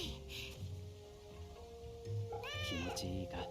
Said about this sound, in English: That's our second cat.